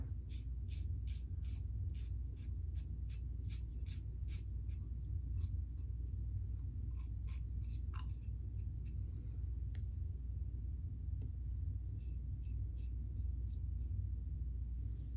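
Wet-shaving with a Gibbs No.16 safety razor: a steady run of short, rhythmic scraping strokes close up, with pauses between some strokes, over a low constant room rumble.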